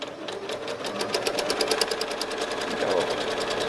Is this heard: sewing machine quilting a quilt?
yes